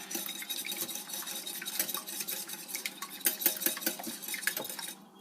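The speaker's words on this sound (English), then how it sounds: "we're going to mix our buttermilk in with our egg. Probably just mix this a little bit" A whisk or spoon beats buttermilk and egg together in a bowl, making rapid, close clinking and scraping against the sides that runs continuously and then stops abruptly near the end, with no talking.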